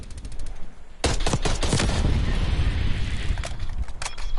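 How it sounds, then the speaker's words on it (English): The AK-63 tactical rifle in Black Ops Cold War fires rapid bursts of loud, close gunshots over steady background game noise, with a few more shots near the end. "It's the tactical rifle, AK-63."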